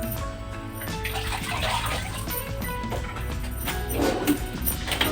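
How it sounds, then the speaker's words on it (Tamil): A small piece of ginger rinsed under a running tap, a steady close stream of water splashing and sloshing against it for several seconds, with no talking. "இந்த இஞ்சி நான் வாஷ் பண்ணிட்டு வரேங்க."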